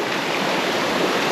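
A waterfall and rocky stream in Jamaica rush with a dense, steady roar of falling and flowing water, close and loud throughout.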